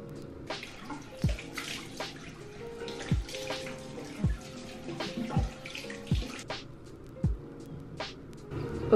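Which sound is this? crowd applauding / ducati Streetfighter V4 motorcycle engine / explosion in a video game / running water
running water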